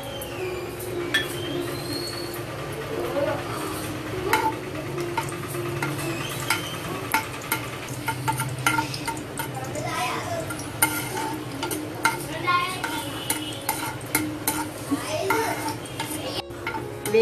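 Cashews and raisins frying in hot oil for temple-style sweet pongal, a steady close sizzle with spoon-stirring scrapes and small ticks running throughout, with no talk over it.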